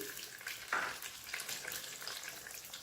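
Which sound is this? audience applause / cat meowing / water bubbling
water bubbling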